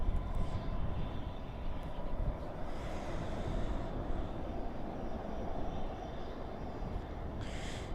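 An American Airlines Airbus A321 landing at night at Dallas/Fort Worth with spoilers up and thrust reversers deployed, giving a dense, rumbling roar that stays strong throughout, with a brief hiss near the end.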